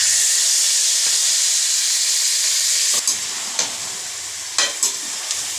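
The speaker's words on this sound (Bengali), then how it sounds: "কড়াইতে অল্প তেল দিয়ে ভালো করে এটাকে কষে নিতে হবে।" Duck meat is stir-fried in a little oil in a wok, giving a steady loud sizzle with bursts of scraping and stirring clatter later on, and nobody speaks.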